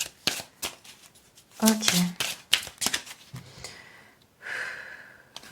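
Tarot cards are shuffled by hand in short bursts of riffling and tapping, close up, mixed with breaths and a brief spoken word.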